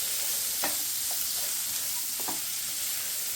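Boiled chicken stirred into masala in a pan: a faint steady sizzle with two or three soft scraping stirs, close and quiet.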